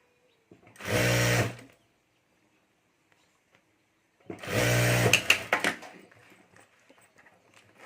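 A sewing machine stitches a fabric strip onto a handmade clutch bag in two loud, close bursts of rapid whirring with a quiet pause between them, the second burst trailing off into faint handling noise.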